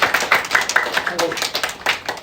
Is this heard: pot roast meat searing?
no